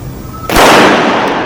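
A single sharp .45-caliber shot from a 1911 pistol at an outdoor range cracks loudly, then a broad, noisy blast and echo sustain for about a second afterward, with no talking.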